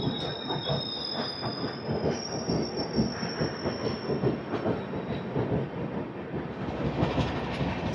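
Andhra Pradesh Superfast Express (20805, Visakhapatnam to New Delhi) running on rails beneath the Kancharapalem bridge, a steady close rumble of wheels with high metallic squeal throughout, no voices.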